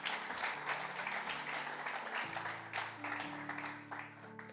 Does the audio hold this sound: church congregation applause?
yes